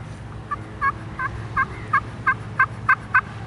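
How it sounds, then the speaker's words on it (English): A Primos Purple Haze turkey slate call played softly: about nine short, smooth yelps in an even rhythm, close and fairly quiet over low background rumble, no talk. "this is my favorite slate call. It's the Primos Purple Haze. It's got a real smooth sound."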